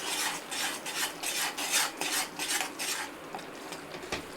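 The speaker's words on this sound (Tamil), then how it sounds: "எல்லாத்தையும் நல்லா கலந்து விட்டு எண்ணெய் பிரிஞ்சு வர அளவுக்கு வதக்கி எடுத்துக்கிடலாம்" Ground masala with chilli powder frying in oil in a pan, stirred with a metal spoon that scrapes and clinks in a repeated rhythm over a soft sizzle, close and moderately loud.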